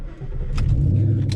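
A 2014 Ford Mustang GT engine gives a loud, close, deep rumble that rises and swells steadily, with brief higher bursts partway through and near the end. No one speaks.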